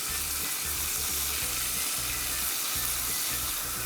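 Chicken breast sears in a well-heated, oiled frying pan with a loud, dense, continuous sizzle and hiss, close and steady throughout, with faint low rhythmic thumps underneath.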